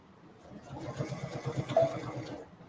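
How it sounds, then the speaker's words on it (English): Sewing machine stitching a child's boardshorts along an angled edge, running as a steady, close mechanical whir with a fast, even needle rhythm. "we're going to sew along that angled edge"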